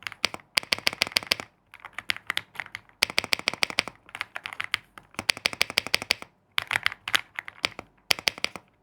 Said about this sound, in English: Now the Tecware Alloy 75 uses the red switch, what Tecware calls it the Tecware Rave switches. And let's just have a listen on the keyboard sound.